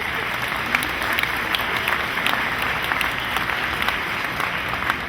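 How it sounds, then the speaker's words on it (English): Audience applause at a Moravian Day gathering of Czech Americans in Chicago, a steady dense clapping from a crowd that holds evenly for the whole stretch, with scattered sharper claps standing out. "Thank you very much for that applause"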